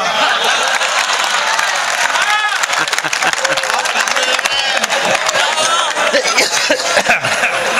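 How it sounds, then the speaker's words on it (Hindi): Applause from a festival comedy show crowd, a dense continuous wash of clapping and crowd noise over a loud, reverberant PA, with voices mixed in throughout. "तालियां।"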